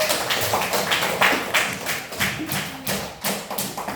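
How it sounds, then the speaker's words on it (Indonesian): Students in an elementary school classroom clap for a group of classmates, a sparse, uneven patter of hand claps and light taps at close range with no talking. "Tepuk tangan untuk kelompok anggur."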